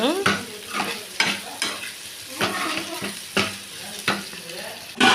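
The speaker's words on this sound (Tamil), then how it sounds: "வெங்காயம் இந்த செவருட்டி மஞ்சள் உப்பு எல்லாமே சேர்ந்து நல்லா வணங்கி வரணும் நல்லா கிண்டிக்கலாம்" Spleen frying with onion, turmeric and salt, stirred in a pan: a continuous sizzle broken by rhythmic scraping strokes of a spoon roughly every second, close and fairly loud.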